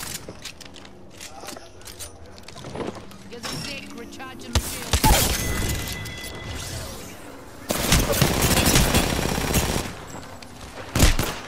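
Automatic gunfire and reload mechanisms in Apex Legends, with bursts of firing in dense clusters and clicking weapon handling, loud and close, while a player talks and shouts over it.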